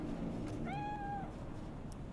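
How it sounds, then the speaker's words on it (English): A cat meows once inside the video game Cyberpunk 2077, a clear mid-length call standing out over a steady low background of game ambience. "It's a good kitty."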